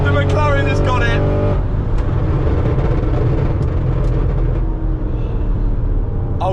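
An Audi RS6 and a McLaren supercar race side by side, engines roaring loud and steady under excited commentary, with a dense sustained drone throughout.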